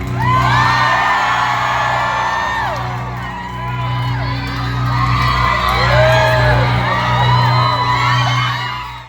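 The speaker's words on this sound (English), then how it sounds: "And everybody was cheering." A concert crowd at a show in Boston cheers loudly and continuously, with whoops, high shouts and yells layered over a dense roar of voices, close and sustained throughout.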